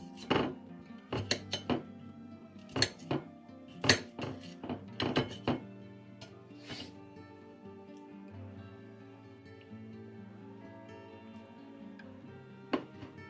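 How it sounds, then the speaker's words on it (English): A knife chops peppers into small bits on a board, a quick series of sharp clicking taps and clinks in bursts, then quieter scraping, close and without talk. "Same with the pepper. Cut them into small bits."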